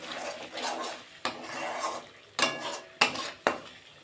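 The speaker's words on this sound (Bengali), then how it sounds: "তো এখন সব উপকরণ আমি ভালোভাবে কষিয়ে নেব।" Metal utensil scraping and stirring yogurt, sugar and spices being sautéed over low heat in a pan, with steady scraping textures and a few sharp clinks of spoon against the pan.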